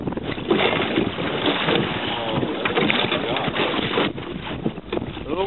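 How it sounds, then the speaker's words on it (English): Strong wind buffets the microphone in rough, roaring gusts over lapping water on Glendalough Lake, Minnesota, while fishing, loud and constant from start to finish. "A little windy out here today."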